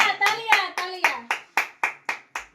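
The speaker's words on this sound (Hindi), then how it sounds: "तालियां तालियां तालियां।" Around nine steady, evenly spaced hand claps ring out close by at a birthday celebration, with voices chanting along over the first half before the claps carry on alone.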